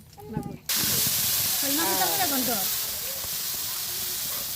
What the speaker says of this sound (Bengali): মাছগুলো ভেজে নিল ভেজে তুলে রাখলো